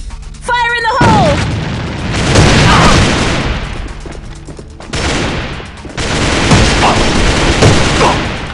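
Grenade blast and gunfire in the online shooter A.V.A: a loud explosion around the first second, then a sustained roar of shooting with further heavy bursts, with a game voice sounding briefly early on.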